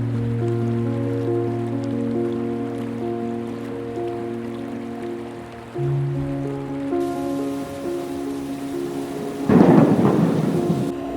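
Rain pours at Dubare Elephant Camp in the Coorg forest, a steady wash of rainfall under a low rumbling tone, with a loud close burst of thunder or heavy downpour near the end.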